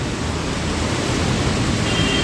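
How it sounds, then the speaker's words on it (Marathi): Heavy monsoon rain pours down in a dense, continuous hiss, loud and unbroken. "सकाळपासून इतका पाऊस लागला"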